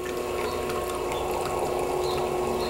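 A bubble jet in a bath toy pumps water through a silicone tube, giving a steady, close, even whirring hum with a bubbling wash and no pauses.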